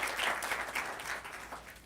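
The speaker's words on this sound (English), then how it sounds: "So let's give her an applause, right?" An audience at a talk show on Latino identity applauds a guest, a sustained, lively round of clapping that rises early and slowly tapers off, with no speech over it.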